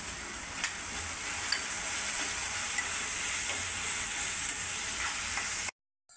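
Turmeric powder sizzles in hot oil for a chicken dish, giving a steady, close hiss of frying with faint stirring ticks before the sound cuts off abruptly near the end.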